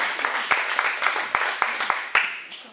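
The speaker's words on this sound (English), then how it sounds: "Let's hear a nice round of warm applause for Bob and Mary Lee Deck." A crowd claps warmly at a cowboy church gathering, a steady patter of many hands in a room, moderately loud and continuous.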